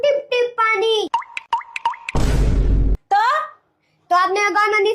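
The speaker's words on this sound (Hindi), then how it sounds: "बुआ जी, ये देखो टिप टिप पानी।" Water drips in a home bathroom: a quick run of distinct plops, then a short burst of rushing noise, with someone talking before and after.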